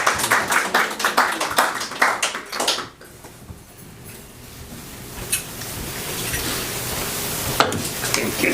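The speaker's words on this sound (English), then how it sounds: "So let's give another round of applause to Bhakti." An audience at a Sunday feast program for a spiritual class claps in a dense burst of applause for about three seconds, then it cuts off and leaves quiet room noise with a few faint knocks.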